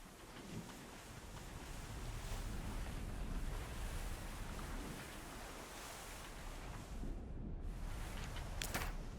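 A ship sailing on ocean waves in the video game Abandon Ship, a constant broad wash of surf and wind-like rushing, steady and moderately loud with no voices.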